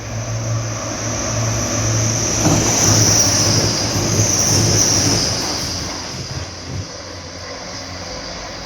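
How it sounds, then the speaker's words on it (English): A train rolls through a platform at Doncaster station with a loud, steady rumble and high metallic wheel squeal. The noise swells in the middle and eases slightly toward the end, with no voices over it. "Please mind the step when boarding this train"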